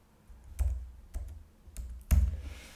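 Keystrokes on a computer keyboard entering a number into CAD software, four separate clicky taps spaced about half a second apart, close and fairly quiet, the last one the loudest.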